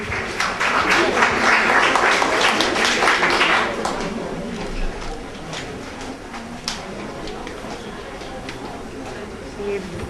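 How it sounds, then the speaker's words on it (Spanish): A lecture audience at a law course applauds the introduction of a speaker, a burst of clapping that is loudest at first and fades out after a few seconds, leaving room noise. "Fuerte palmas, por favor."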